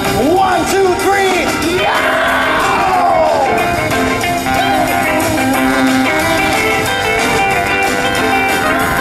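Live concert crowd screaming on cue during a show, a sustained loud roar of yells and whoops from many voices, with wavering shouts standing out over the dense noise.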